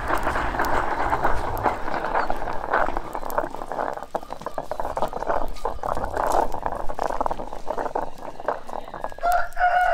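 Well water fed into the base of a kiln quenches hot biochar, giving a continuous loud hissing and bubbling roar with crackles, while fowl call faintly in the background.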